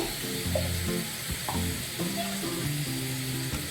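Chilli powder, garam masala, turmeric and chicken masala sizzle in a pan for chicken gravy. A steady, close frying hiss is broken by repeated scraping strokes of stirring, with no voices.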